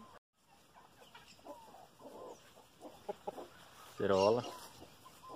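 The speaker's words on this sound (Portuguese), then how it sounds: "Bom que as galinhas tá tudo papo cheio" Farm chickens cluck and chatter in short bursts at moderate distance, with one louder squawking call near the end, while people talk quietly nearby.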